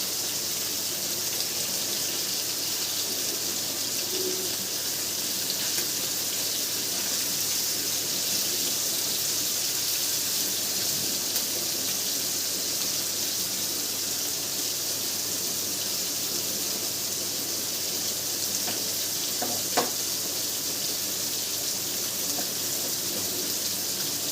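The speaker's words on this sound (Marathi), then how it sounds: "कमी गॅसवर दोन्ही पण मच्छी अशी फ्राय होईल" A continuous, even sizzle of fish frying in a pan on low heat runs throughout, a steady hiss with only an occasional small pop.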